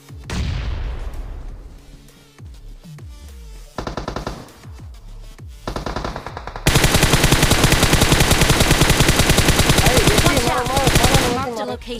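Rapid automatic gunfire in the mobile battle-royale game BGMI, starting with a few scattered shots and then a long, loud, continuous burst of close fire with booming impacts.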